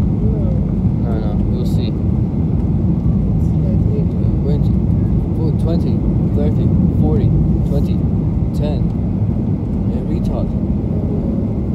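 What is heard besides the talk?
Ryanair Boeing 737-800 hard landing at Stansted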